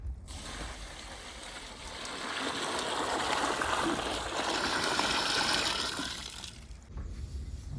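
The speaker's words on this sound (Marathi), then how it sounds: "कांदे आपण आता स्वच्छ धुवून घेऊ, एक एक पाकळी व्यवस्थित मोकळी करून घेऊ।" Water runs and splashes as chopped onions are washed in a basin of clean water in a home kitchen, a soft, steady trickle and slosh that swells in the middle and fades near the end, with no talk.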